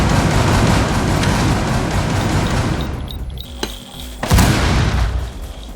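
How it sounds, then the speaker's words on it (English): Gunfire in the game Rainbow Six Siege, a dense loud barrage of shots and booms for about three seconds, then a quieter stretch broken by two sharp isolated reports. "I was shooting him to get his attention and I downed him."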